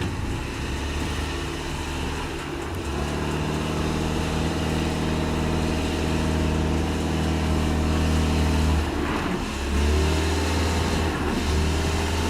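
Subaru Outback stuck on uneven off-road ground with the gas pedal floored, its engine holding a steady, loud drone that wavers slightly near the end, continuous and close with no talk.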